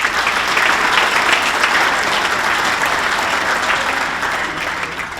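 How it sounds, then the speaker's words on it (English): Sustained applause from a hall of fame induction ceremony crowd honoring Herzog Motorsports, steady and loud clapping filling the room for the full stretch without letting up. "I'll get a big round of applause for Herzog Motorsports."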